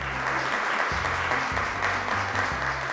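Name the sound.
applause for quiz show contestants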